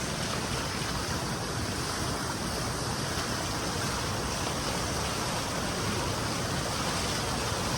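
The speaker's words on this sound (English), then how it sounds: "In case you want to see what it's like when you're in the chute and the water's hitting you, it's like this." Waterfall pouring down a canyon chute while rappelling, a loud, continuous close roar of rushing, crashing water that fills the whole stretch without letup.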